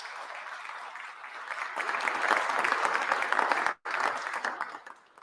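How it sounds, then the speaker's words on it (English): An indoor audience at a state awards ceremony for historic preservation claps steadily, swelling to a fuller burst, dropping out briefly, then tapering off. "Let's give them a round of applause."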